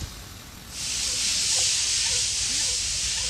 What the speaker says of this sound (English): All that noise when that tensioner flex back up.